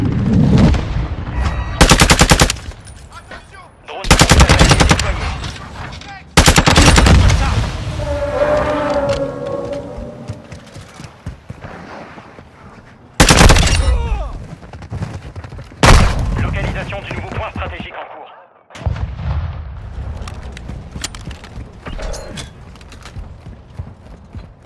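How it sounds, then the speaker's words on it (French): Gunfire rattles through a Call of Duty MW2 match, with several loud bursts of automatic fire spaced apart across the stretch and rougher battlefield noise in between. "Il me tire dessus."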